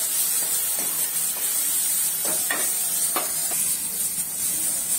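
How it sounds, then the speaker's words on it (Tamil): Onion, green chilli and tomato sauté in a pan under a constant hiss, while a few soft stirring scrapes and taps come through close by. "நல்லா வதக்கணும்"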